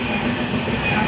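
A MEMU passenger train pulling out of Raniganj platform is heard from on board as a loud, steady rumble of wheels and carriage noise with a faint high whine.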